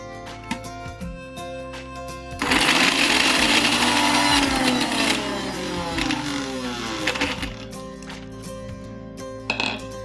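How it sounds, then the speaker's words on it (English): A mixer grinder whirs loudly as it grinds soaked, softened raisins, starting abruptly after a few seconds of quiet and running steadily for several seconds before easing off, with faint clinks near the end. "Now we are going to drain them and put them in a mixer grinder."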